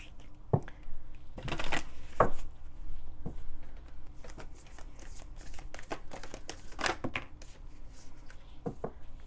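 Tarot cards being shuffled and drawn, with scattered close flicks, slides and soft riffles of card stock against a quiet room hiss.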